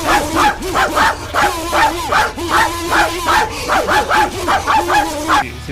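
Two people compete at imitating dogs, trading rhythmic vocal barks and yips in steady bursts throughout, loud and close with no other speech.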